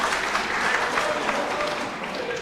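Audience applause at a school quiz championship contest, steady dense clapping from a large crowd filling the room, loud and continuous throughout without a break.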